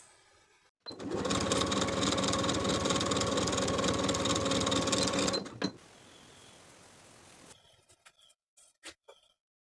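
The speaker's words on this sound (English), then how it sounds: "Sew with a 1/4 inch seam allowance" A sewing machine runs steadily for about four and a half seconds, stitching a strap seam at a quarter-inch allowance, loud and close, then stops; a few quiet handling clicks follow.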